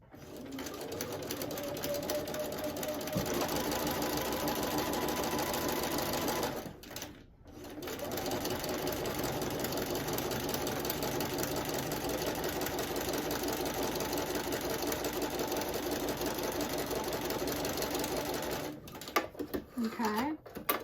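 Close by, a sewing machine hums steadily as it stitches a quilt block seam, running almost continuously with two short stops. A person talks over the machine.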